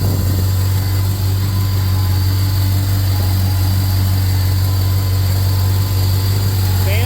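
An air conditioning compressor runs steadily on a 1971 Ford F250, giving a continuous low mechanical drone with a constant engine-like hum throughout, close and unchanging.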